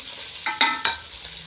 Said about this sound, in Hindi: अब इसमें जाएगा अदरक लहसुन का पेस्ट 1 बड़े वाला चम्मच